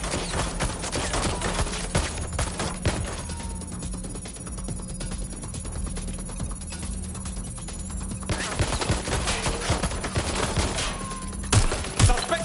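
Rapid bursts of gunfire crackle through a Legion video game firefight, dense volleys early and again near the end with a quieter stretch between, some sharp single cracks standing out.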